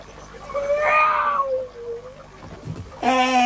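A cartoon cat meows in a drawn-out, wavering cry, followed after a short pause by a higher, brighter meow, both loud and close in an animated children's show.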